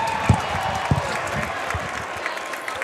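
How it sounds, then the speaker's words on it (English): Arena crowd at a minor-league ice hockey game applauds in a broad, steady wash of clapping and crowd noise, with a few louder claps standing out near the start. "Icemen fans, big round of applause for Thunderbolt Elementary"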